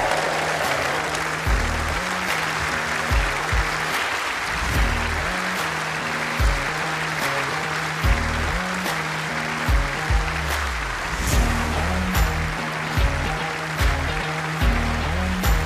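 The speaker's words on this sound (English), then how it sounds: "Keep that applause going, ladies and gents" Sustained applause from the crowd at the World Indoor Bowls Championship final, honouring the new singles champion; loud, continuous clapping runs the whole length, with a steady low musical pulse underneath.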